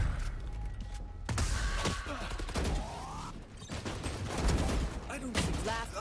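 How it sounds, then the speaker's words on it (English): Sharp, rapid pistol shots from a Classic sidearm in the Valorant shooter game crack through a dense mix of mechanical clicks and other in-game effects over several seconds. "If you're gonna kill me with a classic from that distance"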